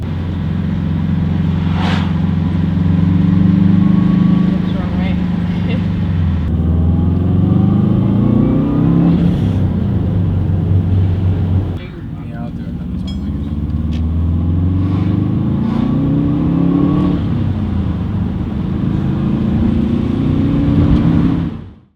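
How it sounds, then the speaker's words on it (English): A Subaru Impreza engine revs and accelerates through repeated gear changes on a test drive, rising and falling in pitch, loud and close throughout with a steady rumble. "we're going to go and take it for a quick test drive"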